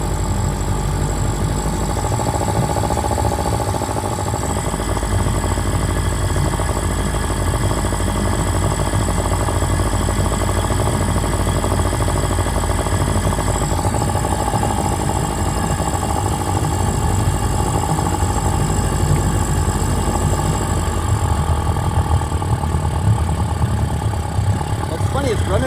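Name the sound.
outboard boat engine running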